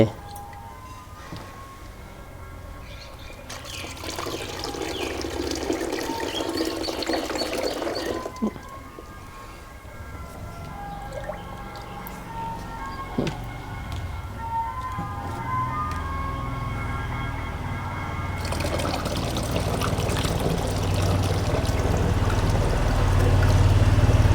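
Water poured into a bottle while making a fermented termite-nest mixture, a continuous gurgling pour that rises and falls over about twenty seconds with background hum.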